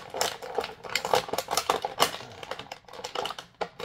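A small cutting tool snips the plastic ties holding a McFarlane Jokerized New 52 Red Robin figure in its packaging, making quick close clicks and rustles of plastic and card in an irregular rapid patter.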